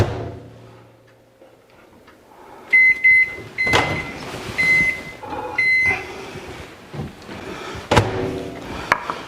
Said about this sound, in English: I'm just going to go ahead and pop this in the microwave for a few moments and soften this up